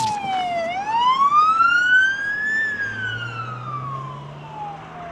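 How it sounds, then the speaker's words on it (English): A police car siren wails on a hill street, its pitch dipping, then rising and slowly falling again as a lower engine tone swells toward the end, fairly loud and continuous with no talking. "he's just joyriding with the sirens on"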